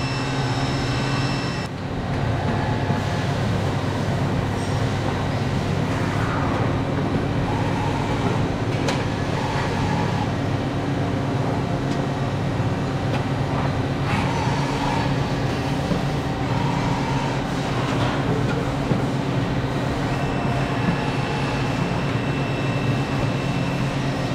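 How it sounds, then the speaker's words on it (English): A factory machine at the Avet fishing reel factory spins a reel blank into shape, giving a loud, steady mechanical drone with sustained humming tones that runs unbroken from start to finish. "It picks the blank up, takes it down there, spins it down to this shape"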